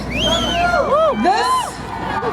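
A large rally crowd in Philadelphia cheers, whoops and shouts in a loud, sustained roar with high excited voices rising and falling throughout.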